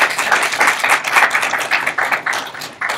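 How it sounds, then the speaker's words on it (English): Applause from a crowd at a student government meeting, dense steady clapping throughout, fairly close and loud with no voices over it. "so round of applause to them"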